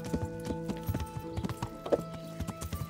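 Horse hooves clip-clopping at a steady trot in the medieval video game Kingdom Come: Deliverance, the rhythmic hoofbeats close and clear over a faint game soundtrack.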